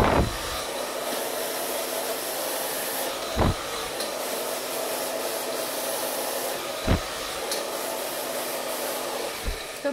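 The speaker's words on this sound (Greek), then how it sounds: "Το πιστολάκι μας ποτέ δεν πιέζει τη βούρτσα μας, απλά την ακολουθεί" A hair dryer blows steadily and close up while blow-drying hair over a round brush for straightening, its even rushing airflow continuous throughout, with a few brief soft knocks of the brush or handling.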